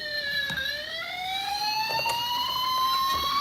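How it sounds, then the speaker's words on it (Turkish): A toy police car's wailing siren with rising and falling tones sounds steadily, loud and close, with a few faint clicks underneath. "Sirenlerini neden çalıyorsun peki?"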